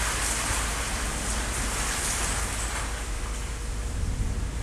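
Steady rain falls outdoors near a birdhouse, a dense continuous hiss of drops with a low rumble beneath, unbroken throughout.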